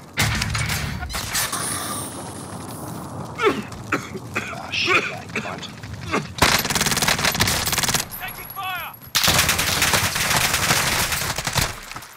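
Gunfire in a shooter video game, rapid automatic bursts and single shots crackling through, loud and close, with players talking over the action.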